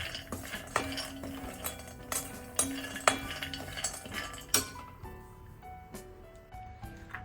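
Almonds being dry-roasted in a kadai with traces of ghee, a metal spoon stirring and scraping against the pan in repeated clinks and knocks, close and fairly quiet, with no talking.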